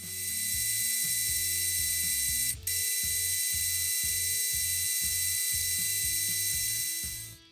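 A lathe knurls a steel bar for a tap wrench, giving a steady mechanical whir with a rhythmic ratcheting, grinding pulse and a high hiss, broken once by a brief sharp click.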